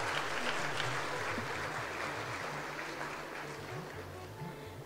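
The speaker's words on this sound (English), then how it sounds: "I request the audience to kindly give a huge round of applause for all distinguished alumni of Central University of Rajasthan." Audience applause for distinguished alumni at the Central University of Rajasthan Foundation Day celebration, sustained clapping that slowly tapers off over a few seconds, with a low musical hum running underneath.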